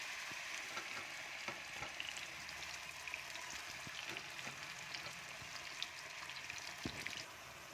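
Meat frying in a hot pan, a steady close crackling sizzle with scattered pops and spatters throughout, no voices.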